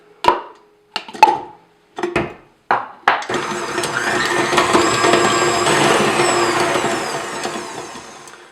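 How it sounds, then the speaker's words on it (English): A stand mixer creams butter for matcha cupcake icing, starting with several short knocks and bursts, then settling into a steady, close whirring drone that runs to the end. "So we're going to mix them up in the stand mixer, and we'll be back. So the first thing we're going to do is cream the butter."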